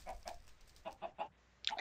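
Chickens in the Minecraft video game give a series of short, quiet clucks in uneven bursts, faint within the game audio, with a slightly higher cluck at the end.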